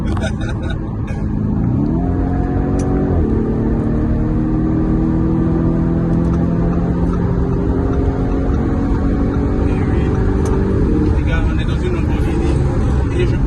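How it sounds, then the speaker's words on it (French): A 650-horsepower Lamborghini Urus engine is driven at full throttle, its deep exhaust note climbing through rising gear pulls with brief shifts between them, loud and close under a steady road roar. "Cette Lamborghini là à fond."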